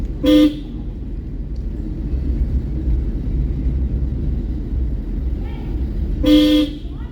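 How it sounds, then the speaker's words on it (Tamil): A car horn gives two short, loud honks several seconds apart during a driving school lesson, over a low rumble of traffic and engine noise nearby. "Our horn அடிச்சிருக்கணுமா?"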